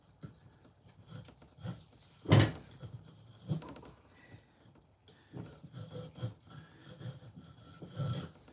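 Wooden dowel being worked out of a board during axe handle making, heard as intermittent rasping and rubbing strokes with one sharp knock near the middle, close and fairly quiet, no talking.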